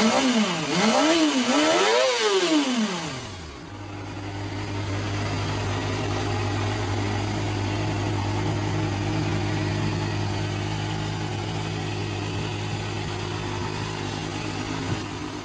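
A Yamaha FZR 250cc inline-four sport motorcycle revs hard in rising and falling sweeps for a few seconds, then settles into a steady, loud idle close by.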